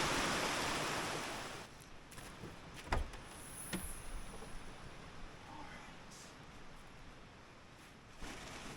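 A lively creek rushes beside a Colorado campsite, a steady broadband wash of flowing water with a few faint clicks and knocks mixed in, fairly quiet and continuous throughout.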